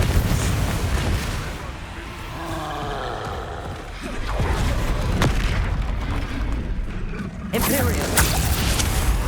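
In the video game Hogwarts Legacy, Confringo spells set off deep, booming explosions in repeated blasts amid cast noise and rumble, with a voice speaking over the action.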